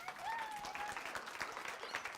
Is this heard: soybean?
no